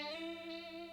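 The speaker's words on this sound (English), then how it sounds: "All it really does is chorus" A guitar played through a basic chorus effect pedal rings out as a single sustained, shimmering chord, faint and brief, with no talking.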